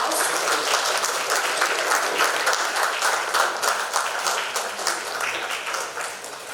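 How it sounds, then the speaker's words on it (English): Audience at an innovation week opening event in Kohima applauding in a loud, sustained burst of dense clapping that keeps an even level for several seconds. "Ladies and gentlemen, a big round of applause."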